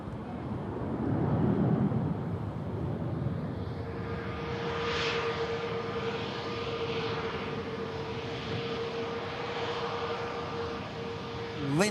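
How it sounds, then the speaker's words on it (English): A Ryanair airliner climbs out after takeoff, its engines a broad distant roar with a long whine held over it, fading slightly, plus some wind noise. "Ryanair begins to climb out"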